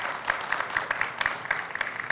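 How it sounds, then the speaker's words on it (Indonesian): Audience at an evening awards ceremony applauding, scattered individual claps layered over a soft, fairly faint crowd patter with no speech on top. "Sekali lagi boleh kita minta tepuk tangannya."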